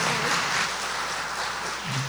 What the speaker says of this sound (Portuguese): queria pedir, né, uma salva de palmas para eles aqui, representando todo mundo